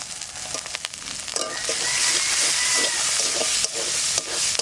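Prawn head fat hitting a spice paste in a hot pan, with river prawns in the cooking: a loud, steady sizzle swells and stays bright and hissing, with a few stirring clicks and scrapes, no voices.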